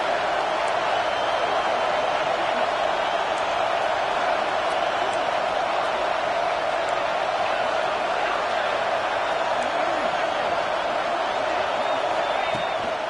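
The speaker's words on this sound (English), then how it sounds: "Decibels rising as the crowd gets behind this defense on third down" A stadium crowd at a Tennessee vs. UCLA college football game roars steadily for the defense on third down, a dense, continuous wash of noise that holds level throughout without a distinct swell.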